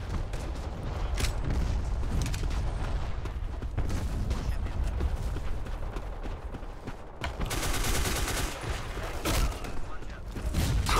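Rapid gunfire bursts and single shots from a multiplayer first-person shooter, Black Squad, rattle through the clip amid game effects, with a dense automatic-fire stretch near the end.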